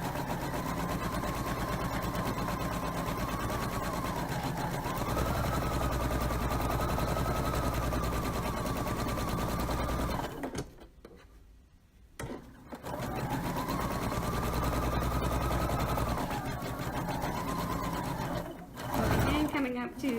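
Sewing machine running steadily at speed while stitching a shirt into a memory pillow, a continuous close whirring hum that briefly stops around the middle before resuming, with a voice talking over it.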